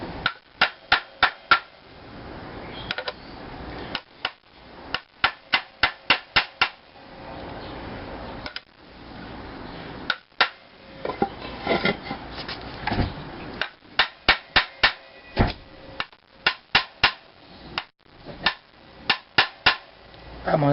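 A hammer taps bearings into place during a crankshaft bearing refit, sharp metallic blows coming in quick bursts of four to six strikes, loud and close, with short pauses between the bursts.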